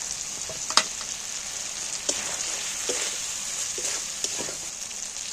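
Dried and slit green chillies frying in hot oil in a pan, a steady close sizzle with a few sharp pops and crackles scattered throughout, no voices.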